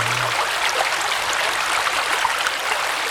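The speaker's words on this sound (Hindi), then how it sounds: "जगह जगह पानी के बहने की आवाज, झरनों की आवाज" Water flows and splashes along a mountain stream with small waterfalls, a constant close rushing wash with no breaks and no voices.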